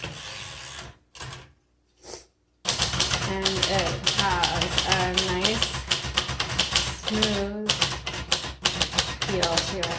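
Keystrokes on a green 1973 Royal Sabre portable typewriter, sharp mechanical clacks in irregular bursts, with someone talking over much of the typing.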